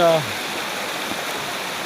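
Heavy monsoon rain and runoff wash down the stone steps of Mount Girnar as a constant, near hiss of falling and flowing water. A brief voice sounds at the very start.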